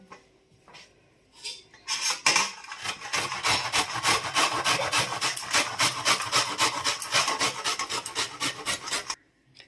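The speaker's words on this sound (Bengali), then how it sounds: "তো আমি এই ফুলকপি থেকে ফুলগুলো আগে গ্রেটারের সাহায্যে গ্রেট করে নেব।" Cauliflower florets rubbed against a metal grater in quick, regular rasping strokes, close and fairly loud, starting after a couple of seconds of light handling and stopping near the end.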